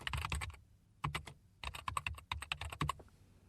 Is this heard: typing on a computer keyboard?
yes